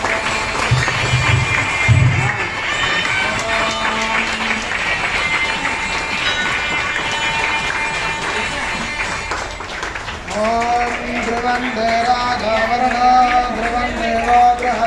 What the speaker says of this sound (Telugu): అందరు చప్పట్లతోని